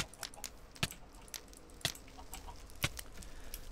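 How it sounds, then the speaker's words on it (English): Chickens cluck in the Minecraft Pixelmon video game, a few sharp, faint clucks spaced apart against quiet game background with no talk. "Oh my god, these chickens are laying eggs."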